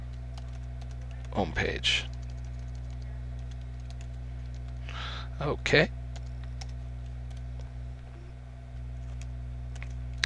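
Faint, quick clicks of typing on a computer keyboard run throughout over a steady background hum, and someone speaks briefly twice between the keystrokes.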